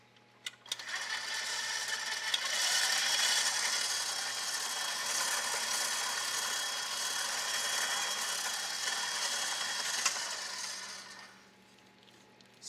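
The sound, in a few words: mixer blending cookie dough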